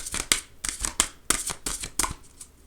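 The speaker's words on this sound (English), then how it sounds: "Last shuffle." A deck of cards is shuffled by hand in a handful of quick riffling bursts, close and crisp, each flutter separated by short pauses.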